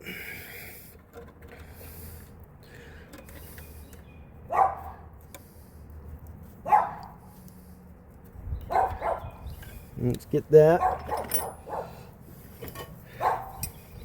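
A dog barks in a residential yard during a 1965 Ford Thunderbird rebuild, giving several sharp, separate barks at moderate distance with brief pauses, and a short spoken remark between them.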